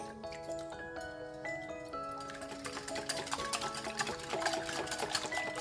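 Eggs beaten in a bowl with soy sauce, oyster sauce and milk, giving a quick steady clicking and tapping of utensil against bowl that grows busier, with music playing underneath.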